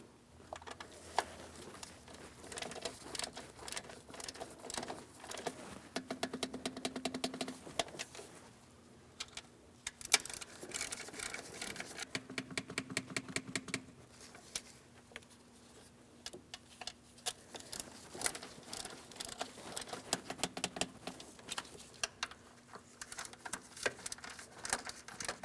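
Torque wrench tightening variable valve timing solenoid bolts on a 2015-2025 Ford Transit 250, quick ratchet clicks in short bursts with brief gaps and occasional metallic clunks, close-up, no voices.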